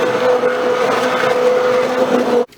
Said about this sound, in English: Okay, I think that's blended